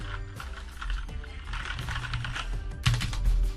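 Typing on a Drevo GRAMR 84-key backlit compact keyboard, rapid close clicks and clacks mixed with a busy background that surges loudly near the end.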